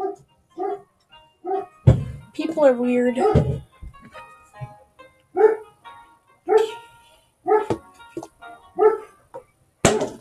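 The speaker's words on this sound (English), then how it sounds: "Why do people have to be doing stuff outside to make my dogs bark?" Dogs bark at people outside, sharp repeated barks and yips in irregular bursts, fairly close, with a whimper and a person speaking between the barks.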